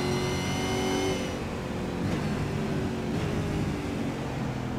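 A race car in a Supercars racing video game roars past at high revs, loud and close, its engine note sweeping down as it goes by over a steady drone of other engine noise.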